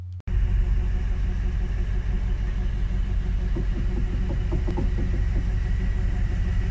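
Long passenger train running from Galle to Colombo in Sri Lanka, a steady loud diesel engine rumble and drone with rhythmic clatter building midway, continuous throughout without voices.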